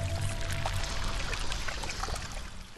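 Holy water pours in the horror video game Home Sweet Home, a steady liquid splash and trickle running close and fairly loud for almost three seconds, with game sounds underneath.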